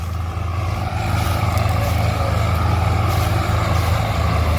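A tractor engine strains loud and close while towing loaded maize trolleys with a tow rope, a steady low throbbing rumble that holds throughout with no speech.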